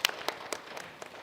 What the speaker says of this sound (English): Let's give Shalom a round of applause for 4th place